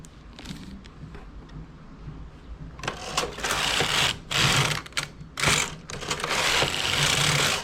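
Domestic knitting machine carriage pushed back and forth across a double bed, loud rasping sweeps in bursts with short pauses, close up.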